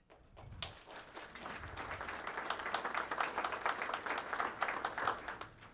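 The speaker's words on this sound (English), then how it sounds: "Please join me in giving the IU team one more round of applause" Luncheon audience applauding the IU team at a chamber of commerce event: dense, sustained clapping from many hands that swells and stays loud for several seconds.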